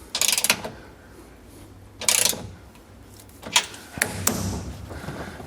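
Bolts being tightened while installing a vise make bursts of close ratcheting clicks, three or four short runs with pauses between, over a quiet low hum.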